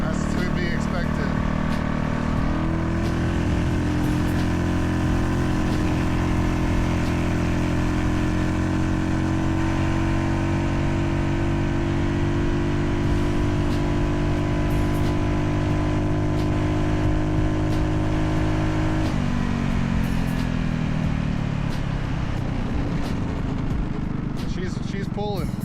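A Yamaha Riva 125 scooter engine, part of a Gensuki build, hums steadily while riding, holding one pitch before easing off near the end, with a voice talking over it.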